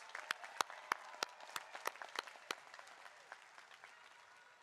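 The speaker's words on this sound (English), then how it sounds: "Give them a big round of applause." Spring commencement at Cal Poly in 2021: a crowd claps in the stands, first in sharp, distinct bursts, then thinning into softer, scattered applause that fades out.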